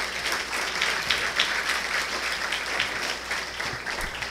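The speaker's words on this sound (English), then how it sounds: "Let's give the parents a round of applause as well." Audience applauding parents at a school awards ceremony, a steady wash of many hands clapping at moderate distance, continuous throughout without voices.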